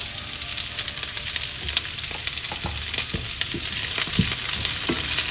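Red onion fries in a hot pan for baby squid adobo, giving a loud, continuous sizzle with crackles and occasional stirring scrapes. No one speaks.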